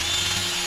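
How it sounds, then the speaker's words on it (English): A power drill enlarges pilot holes for a backing plate on a kayak anchor trolley install, a loud, steady whirring grind heard close up and alone for under a second. "now that all 3 holes are drilled"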